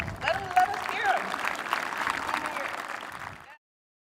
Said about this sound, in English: Give a round of applause to Mason.